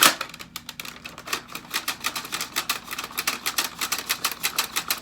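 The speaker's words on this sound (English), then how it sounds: "the priming rods are catching on something" Dart Zone Pro MK 1.2 foam blaster being primed with its priming rods catching, giving a rapid, fairly close run of dry clicking and ratcheting rattles that repeat steadily with no voices.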